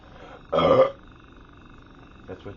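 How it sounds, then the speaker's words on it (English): A single loud, short burp from a person, up close, followed by quiet and a faint small sound near the end. "So, look at your burp."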